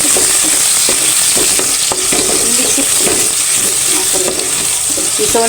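Onion, green chili and small dried shrimp fry in a pan while being stirred, giving a steady loud sizzle with scraping strokes of the spatula against the pan throughout, and no voices.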